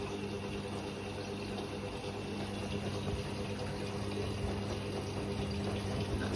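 A Miele W562 Prestige Plus washing machine runs its first rinse, giving a steady, soft pump hum with water trickling and swishing, continuous and fairly quiet throughout.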